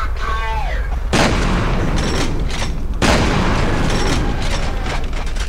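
Grenade blasts in the video game F.E.A.R., with loud booming explosions landing twice in quick succession over dense rumbling game noise, close and overpowering.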